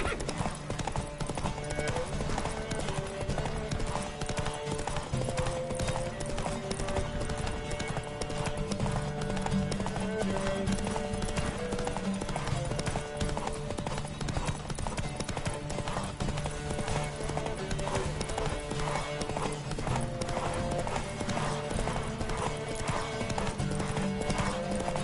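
Horse galloping in Witcher 3, rapid clip-clop hooves drumming steadily throughout with occasional whinnies, set against a continuous game music bed.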